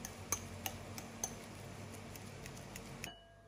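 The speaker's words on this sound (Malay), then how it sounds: "bolehlah kita haluskan ubi kita menggunakan garpu" A fork mashes cooked, softened sweet potato in a bowl, giving faint, sparse metallic clinks and taps against a quiet background before going still.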